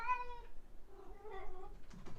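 A cat meows indoors: one long, clear meow, then a lower drawn-out cry, and a brief third call near the end, all close by and without talk.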